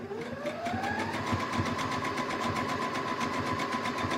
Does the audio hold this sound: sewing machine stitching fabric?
yes